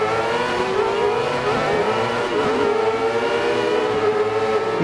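An F1-style go-kart engine in the racing game Dirt Rally 2.0 screams at high revs throughout, holding a loud, steady, buzzing tone that wavers slightly as it shifts, with no voices.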